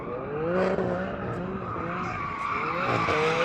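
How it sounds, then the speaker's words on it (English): A Mercedes-AMG C63 Black Series and a BMW M3 spin their tyres to warm them, giving a loud, continuous squeal with rising and falling screeches over engine roar for several seconds, no talking. "I'm going to just warm up the tyres a little bit, so here we go"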